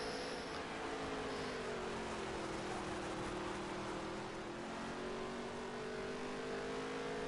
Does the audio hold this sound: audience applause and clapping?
no